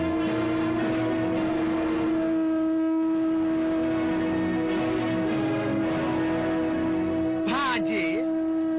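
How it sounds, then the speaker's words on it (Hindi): A conch shell is blown in a dramatized Mahabharata battle scene, producing a long, loud, sustained horn-like tone that holds steady for several seconds, with a brief sound breaking in near the end. "तुम ये शंख की ध्वनि सुन रहे हो?"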